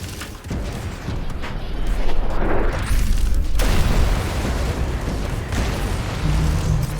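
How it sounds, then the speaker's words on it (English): Bomber bombardment in the X-Morph: Defense video game, giving heavy booming explosions that roll into a dense, continuous rumble, loud and close throughout. "Bomb on those two. And bombardment upon the others."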